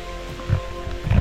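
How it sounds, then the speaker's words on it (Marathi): Rain falls at Avchitgad fort as a steady hiss with a few louder patters and splashes nearby, continuous and moderately loud with no voices. "आता पाऊस चालू झालेला आहे चांगला"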